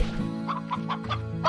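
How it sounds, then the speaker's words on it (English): Hens cluck repeatedly in the video game Slime Rancher, a busy flock with irregular overlapping calls at moderate loudness over a steady low game background hum. "Oh, there's so many hens."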